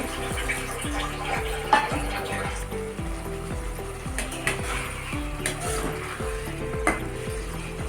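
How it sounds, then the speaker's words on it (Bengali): Fish curry of singhi catfish simmering in a pan after a splash of water, with a rhythmic scrape-and-stir pattern repeating about every half second over a constant soft bubbling sizzle, close and moderately loud. "একটু জল দিয়ে কষে নেব"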